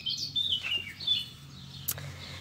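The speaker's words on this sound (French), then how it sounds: "Écoutez le petit oiseau." A small bird chirps a few high, thin tweets in quick succession, clear and fairly near over a faint low background hum.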